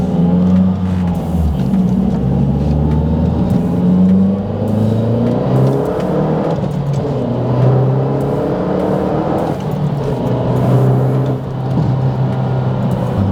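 A Mazdaspeed3 engine roars loudly and steadily, rising in pitch through hard acceleration with brief dips between gears.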